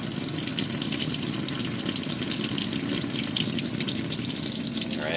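A Whirlpool Cabrio WTW7000 top-load washer fills with water, a steady close hiss and gush pouring into the tub without pause and with no talking.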